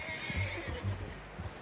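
Horse whinnying in Red Dead Redemption 2, a short nasal neigh close by with faint hoof clops beneath, alone without speech.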